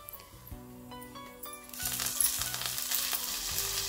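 Fresh coriander leaves dropped into a hot pan and sautéed: light clinks at first, then a burst of sizzling and frying hiss that holds steady over soft background tones.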